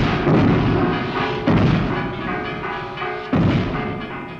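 Rocket launch sound effect from a 1969 vinyl record: a loud, continuous roaring rumble with three heavy bursts of added force, each swelling and slowly easing off, heard alone.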